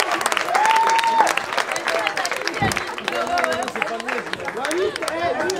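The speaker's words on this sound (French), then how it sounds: "Je pense qu'on peut tous les applaudir bien fort," Wedding guests at an evening reception applaud steadily, a dense patter of clapping running under loud overlapping chatter and voices throughout.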